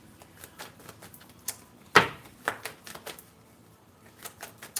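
Tarot cards being shuffled by hand, a run of quick papery riffles and taps with one sharp louder snap near the middle, close and fairly quiet without talk.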